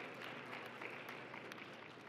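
Audience applause at an Indonesian food-security forum, a steady crowd clapping that is fairly distant and even across the whole stretch.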